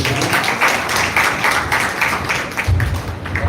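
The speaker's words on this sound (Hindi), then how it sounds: "एक बार जोर से ताली बजाएंगे प्रभु।" A crowd at a devotional gathering claps loudly and in unison, a dense, steady wash of many hands that runs unbroken from start to finish.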